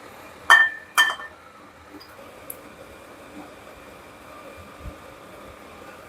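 Dishes being set out for a braised kabocha squash salad: two sharp ceramic clinks early on, then a quiet clatter of plate and utensil with faint handling noise.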